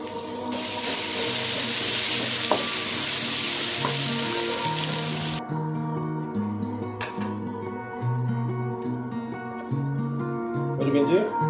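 Curry leaves dropped into hot oil in a frying pan for a Kerala-style pardha biriyani masala, giving a loud, steady hiss that eases after a few seconds, with a music-like tonal background throughout.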